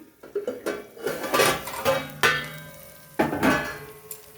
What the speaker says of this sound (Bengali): চলো এবার ঢাকাটা খুলে নিই